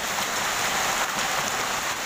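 Heavy hailstorm in Delhi with light rain: a dense, continuous patter of hailstones striking surfaces, loud and close, with no voices.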